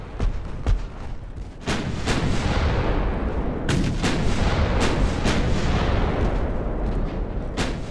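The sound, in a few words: torpedo salvo fired in Ultimate Admiral Dreadnoughts video game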